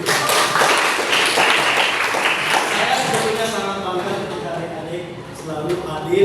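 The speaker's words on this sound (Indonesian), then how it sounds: "tepuk tangan dulu" Schoolchildren in a classroom clap together in a burst of dense, close applause that fades out over a few seconds, with a teacher's voice heard as the clapping tapers.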